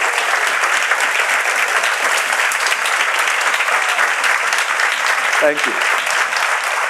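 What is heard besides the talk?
congregation clapping for the Lord in church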